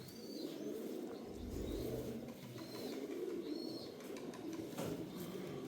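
Old Sialkoti pigeons cooing, soft low throaty coos repeating in a slow, rolling rhythm, faint and close, with a few thin chirps and light rustling in the background and no talking.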